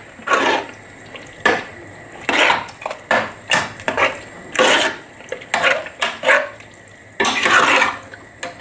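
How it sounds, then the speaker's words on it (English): Beans are stirred and scraped in a metal cooking pot with a utensil, giving irregular clinks and scraping strokes at close range, with no talking. "I'm just going to give that a stir"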